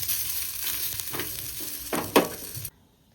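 Cumin frying in hot oil in a pan, a steady close sizzle with a few louder scraping stirs before it cuts off abruptly near the end.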